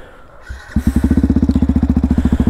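A Yamaha WRX 125 supermoto with an unbaffled Arrow exhaust cranks and fires up, then settles into a loud, close, rapid popping idle with evenly spaced exhaust pulses.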